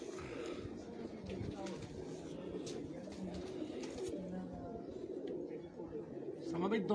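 Pigeons coo softly in a loft, half masked by steady talk and murmuring voices, with a brief flutter of wings near the end.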